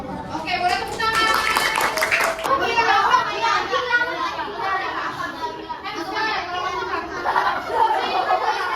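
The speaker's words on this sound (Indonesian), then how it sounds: "Oke, boleh tepuk tangan." Students in an Indonesian classroom clap their hands during a teaching simulation, a burst of brisk claps in the first few seconds amid lively chatter and children's voices that carry on throughout.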